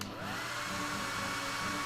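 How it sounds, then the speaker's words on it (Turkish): A toy hair dryer used with a brush in LOL Surprise doll play blows with a steady, even whirring hum that holds without a break. "Fön makinesi ve fırça."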